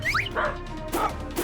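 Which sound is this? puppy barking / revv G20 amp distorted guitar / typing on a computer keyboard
puppy barking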